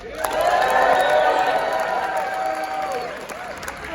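A comedy club crowd at the Brew Ha-Ha breaks into loud, sustained applause with whoops and cheers, holding steady for several seconds before easing slightly near the end.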